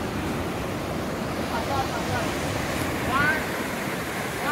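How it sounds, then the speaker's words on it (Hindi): Water rushes and falls steadily at a dam siphon near Sambalpur, a loud, continuous broadband roar filling the whole clip without a break. "यहाँ पर जहाँ पानी गिर रहा है वहां फूट रहा है"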